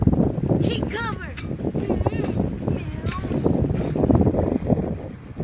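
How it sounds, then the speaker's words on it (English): Strong wind buffets a 1977 Columbia 8.7 sailboat under sail on a genoa, gusting roughly against the microphone with water and boat noises, while people talk intermittently over it. "Too much wind now. Getting a lot of wind."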